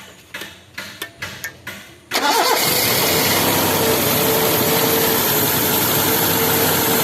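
A cleaned engine cranks over in several short rhythmic bursts, then catches and runs at a loud, steady idle for the remaining seconds.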